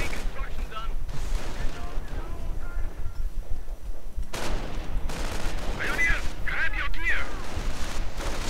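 Small-arms gunfire in a WWII strategy video game skirmish between grenadiers and riflemen, bursts and pops rising and falling throughout, under steady game ambience with a commentator talking over it.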